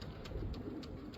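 A racing pigeon arriving home after a 200 km race gives low, soft cooing, quiet and steady against a constant background hum, with no voices.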